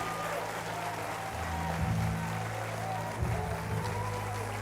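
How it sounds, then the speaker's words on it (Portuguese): Church congregation applauding loudly during a Portuguese-language worship service, a dense steady wash of clapping over low droning music or hum, swelling slightly midway. "Aplauda esse Deus bem forte."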